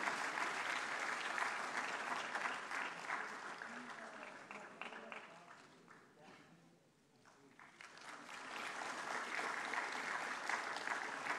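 Audience at a national awards ceremony applauding steadily, dense clapping that dips briefly around the middle and then swells back to full strength, with no talk over it.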